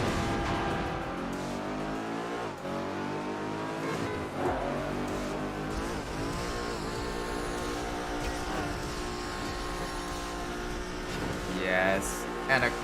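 A car engine races in Midnight Club 3 Dub Edition Remix on Detroit streets, a loud continuous roar that rises and drops through gear shifts and revs, with a voice speaking briefly over it.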